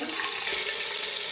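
Chicken pieces hitting hot oil that has already been used for frying, giving a steady, dense, close-up sizzle that holds evenly through the short moment with no talking.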